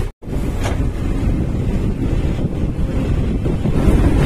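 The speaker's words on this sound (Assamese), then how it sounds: "দুনিয়া হাওয়া মারি আছে মানে বতা দি আছে" Strong wind blows outdoors beside a road, buffeting the microphone in a loud, steady broadband roar with one brief dropout near the start.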